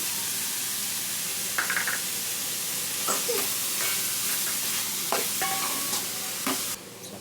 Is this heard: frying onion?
yes